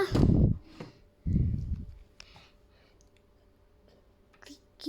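A few sharp, soft clicks of an Xbox One S console power button sound in a quiet room, between short stretches of low, close speech.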